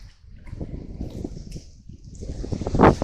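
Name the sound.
wind rising at Castelnaudary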